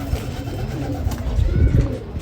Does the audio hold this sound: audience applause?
no